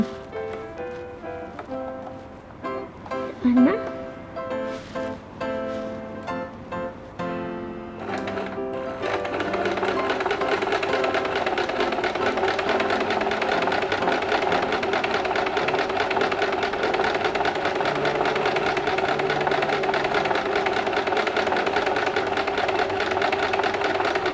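A sewing machine stitches a zigzag stitch at a steady fast rhythmic whir, running continuously and fairly loud for the latter half after some earlier handling and adjustment.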